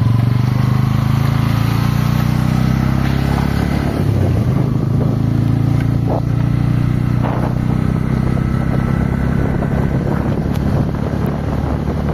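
Motorcycle engine droning steadily as the bike climbs a hill road toward Kapilash temple in Odisha, heavy wind buffeting the microphone throughout and masking much of the engine.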